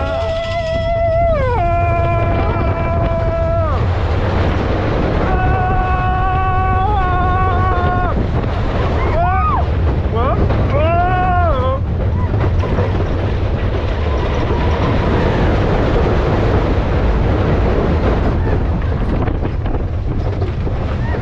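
Riding Big Thunder Mountain roller coaster at Magic Kingdom: rumbling, rattling cars and rushing wind fill the clip, with riders' screams and whoops rising in bursts early on before the roar of the track takes over.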